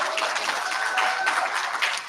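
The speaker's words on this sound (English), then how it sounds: "Please give them an absolute round of applause." An audience at a live ex-Jehovah's Witness event in Sydney gives a sustained, loud round of applause, dense overlapping claps continuing throughout before dipping at the very end.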